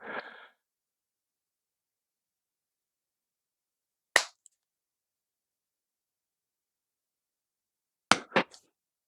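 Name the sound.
watch bracelet clasp extension snapping back in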